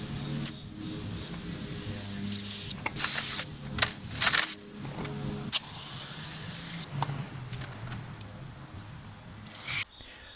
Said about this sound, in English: I used a spray can of carb cleaner to clean out the heavy debris